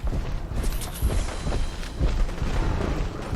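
Distant gunfire and booms in the Fallout 4 video game, a steady rumbling backdrop with a few heavier low thumps near one and two seconds, no voices.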